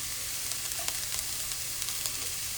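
Scallion and garlic saute in a pan with a soft, steady sizzle, with light spatula ticks and pops scattered through.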